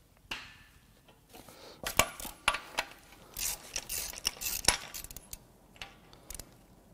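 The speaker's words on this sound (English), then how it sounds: "so we'll get the tensioner loosened up first." The timing chain tensioner on a Mini Cooper N14 turbo engine is loosened with hand tools, giving quiet, scattered metallic clinks, taps and rattles in irregular bursts.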